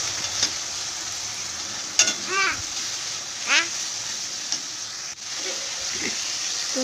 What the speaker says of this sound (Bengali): মশলাটাও ভালো করে মিক্স করে নিয়ে ভেজে নেব।